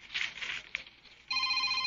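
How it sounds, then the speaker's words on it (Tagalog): A cellphone starts ringing partway through with a steady electronic ringtone that enters suddenly after a stretch of quiet rustling and hiss, and it keeps sounding loudly to the end. "Uy, iyang cellphone. Yung bagting."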